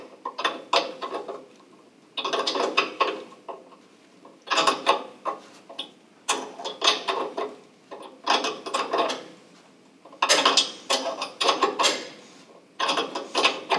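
Ratchet wrench loosening a 13 mm lock nut in a cramped spot on a Weil-McLain SlimFit boiler, heard as repeated bursts of close, rhythmic clicking separated by short pauses.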